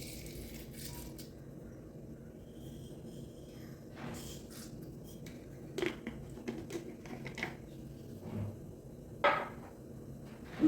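Mustard seeds pop in hot coconut oil in a home kitchen. Faint, scattered crackles and sharp ticks come at irregular intervals over a low background hiss, growing a little busier toward the end.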